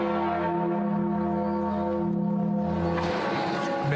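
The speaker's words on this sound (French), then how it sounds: "les cloches de toutes les cathédrales de France retentissent" Several large cathedral church bells in France ring together in a sustained, resonant peal, deep tones overlapping and swelling steadily for the whole stretch with no voices over them.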